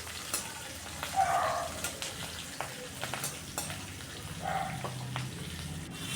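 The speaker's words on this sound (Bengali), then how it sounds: "কাঁচা লঙ্কাটা দিয়েও আবার ভাজা ভাজা করে নিচ্ছি রসুনের সাথে।" Green chillies and garlic sizzle in hot oil, a steady crackling fry with occasional stirring scrapes and a few louder pops.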